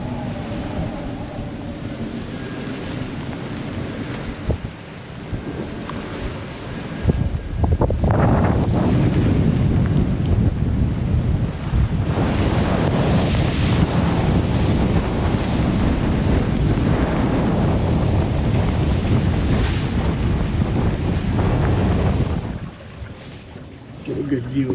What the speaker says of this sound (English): this is what it sounds like when you're on a broad reach with 25 knot winds in heavy seas